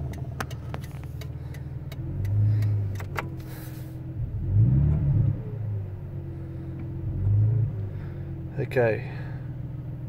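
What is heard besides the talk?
car engine running at idle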